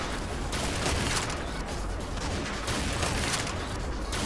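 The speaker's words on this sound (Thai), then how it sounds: "โอเคตอนนี้มายิงกันแล้วกัน" Rapid, steady gunfire from a sniper rifle in the XSHOT shooter game, a dense, unbroken crackle of shots at even loudness with no talking.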